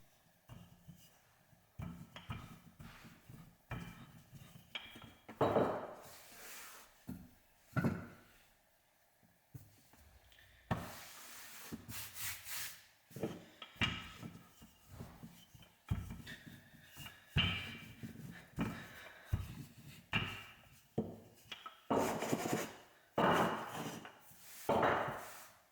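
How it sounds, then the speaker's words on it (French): A rolling pin taps a block of butter-filled puff pastry dough for a Munster pastry, giving a long series of close, dull wooden thuds in irregular bursts and clusters with short pauses between them. "Avec le rouleau à pâtisserie, vous allez commencer par donner des petits coups de manière assez homogène sur le pâton."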